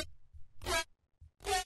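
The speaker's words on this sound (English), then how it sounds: "this is just two saw waves being like FM to each other" Two sawtooth synth oscillators frequency-modulating each other with no effects applied, playing two short, bright, buzzy bursts separated by a gap, loud and alone.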